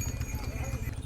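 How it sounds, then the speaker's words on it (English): Horses walk along a road on the Sichuan–Tibet Chuanzang middle route, their hooves clip-clopping in a quick, close, rhythmic patter over a low rumble. "This is a horse congestion."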